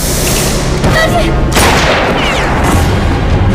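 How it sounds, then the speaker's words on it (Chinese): Gunfire in an action drama scene aboard a hijacked bus, several booming shots and a burst of rapid reports, loud and close, with a person speaking between them. "是枪声"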